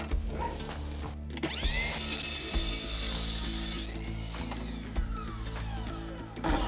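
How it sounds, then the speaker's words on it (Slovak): A Ryobi RMS18190 cordless sliding miter saw winds up with a rising whine and bites through a piece of wood, a sustained loud cutting roar that drops off as the blade spins down. "No a píla s tým nemá absolútne žiadny problém, do dreva ide veľmi pekne."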